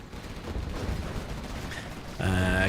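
Quad cannon gunfire in the video game Command and Conquer Generals Zero Hour breaks out as a sudden loud, rapid burst near the end, after a stretch of dense in-game battle noise.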